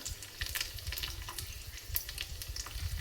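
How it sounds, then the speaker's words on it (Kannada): Dried red chillies and curry leaves sputter in hot oil for a tempering for mango tambuli, a dense, steady crackle with sharp pops scattered throughout, close and continuous with no voices. "ಮೆಣಸು, ಕರಿಬೇವು ಸೊಪ್ಪೆಲ್ಲ ಚೆನ್ನಾಗಿ ಎಣ್ಣೆಲಿ ಫ್ರೈ ಆಗಲಿ"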